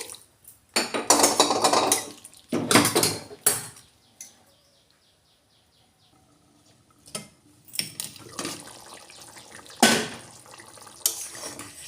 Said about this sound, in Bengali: জলটাও আমি গরম জল দিচ্ছি